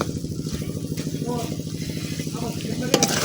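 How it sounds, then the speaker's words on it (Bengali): Chicken meat for a village-style kosha fries in a pan over a flame while its liquid cooks down, a pulsing sizzle with a rhythmic rattle heard close and continuous, and a voice talking over it. "জাল দিয়ে কিন্তু আমি মাংসের পানিটা একেবারে শুকাই নিচ্ছি"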